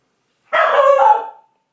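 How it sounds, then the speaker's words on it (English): A single loud, close dog bark lasting about a second, a strained, tonal yelp with no other sound around it. "What are you barking at?"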